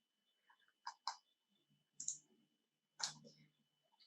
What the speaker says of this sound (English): I can use my arrow on the keyboard that will give me just as many pixels as I need